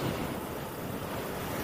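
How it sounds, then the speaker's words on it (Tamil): Strong wind buffets the microphone on a large bridge in Coimbatore, a continuous loud roaring rush with no break and no voices. "காற்று ஓவர் அடிக்குது இன்னைக்கு."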